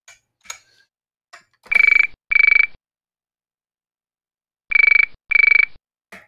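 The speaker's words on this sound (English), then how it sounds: "This was a pretty cool telephone, and it sounded like this." A 1960s British trim phone rings with its warbling electronic trill in two pairs of short bursts, a long pause between the pairs, loud and close with a few faint clicks around them.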